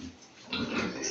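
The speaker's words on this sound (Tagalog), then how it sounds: "Grabe yung mga baboy di." Pigs in a pen give a brief, muffled grunting snort, faint and close, rising briefly in a noisy farm setting.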